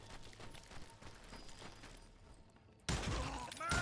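Gunfire in a video game shootout, a rapid volley of shots under a rumbling game soundscape, then a sudden loud burst of firing near the end.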